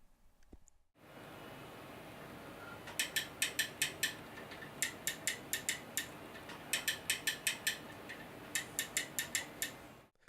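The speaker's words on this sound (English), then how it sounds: "this is the new Derek Spear design sequential shifter. This one is adjustable and it is much quieter than the other 2" A Derek Spear Design adjustable sequential shifter clicks through gears in quick bursts of sharp mechanical ticks, sets of three or four close-spaced clicks repeating over a low steady background hum.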